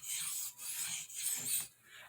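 A large stockman knife blade is drawn across a soft Arkansas oilstone in even, rhythmic rasping strokes, each pass a quiet, close scrape separated by brief pauses.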